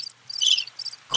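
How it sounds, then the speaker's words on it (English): Crickets chirp in rapid, high-pitched trills that swell and fade in bursts, with a faint low hum beneath and a brief louder rustle at the end. "Crickets."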